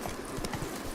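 Roach trots briefly in The Witcher 3's Blood and Wine expansion, a few quick hoof clops close up over in-game ambience.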